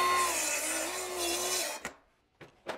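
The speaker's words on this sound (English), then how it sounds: "I'm gonna bevel this backside up until about 1¼ inches where the nosing is" A power saw bevels the back edge of a wooden stair tread, whining loudly for about 1.7 seconds, then spinning down and stopping, followed by a few short knocks and taps.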